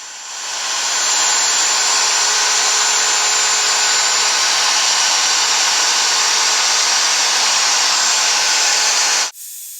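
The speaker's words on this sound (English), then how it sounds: "I take the Stumac binding bit with the largest washer and just run this off on the side to get that binding channel" A router fitted with a Stumac binding bit and its largest bearing washer cuts a binding channel along the side of a Les Paul fretboard, a loud steady high whine held for several seconds before cutting off abruptly.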